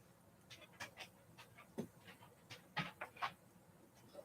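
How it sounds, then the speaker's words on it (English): Pet dogs panting indoors, soft quick breathy bursts in an uneven rhythm, close but faint, with a few light whimpery sounds and no talking. "These are my dogs."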